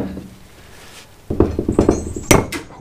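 Flathead screwdriver prying an old fork seal out of a Honda CB500 Four front fork tube, heard as a quick series of close metallic scrapes and knocks that end in a sharp clink as the seal comes free.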